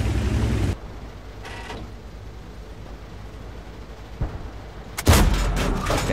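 A tank cannon fires in the World of Tanks video game, with one heavy boom at the start and another sharp, loud blast near the end, over a low engine rumble.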